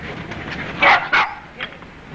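A pet pup barks twice in quick succession, fairly near, with a faint quieter yip afterward, set against low room noise in an old 1930s film scene.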